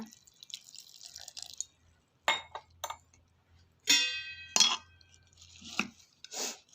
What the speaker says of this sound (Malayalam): കുറച്ച് വെള്ളം കൂടെ ഒഴിച്ച് കൊടുക്കുക